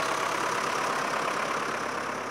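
A steady tractor engine idles nearby, a constant mid-pitched drone with a faint knocking texture and no change in level.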